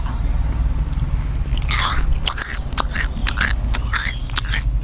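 Freeze-dried candy being chewed close up, with loud crisp crunches and bites in an uneven rhythm over a soft scraping background, no talk.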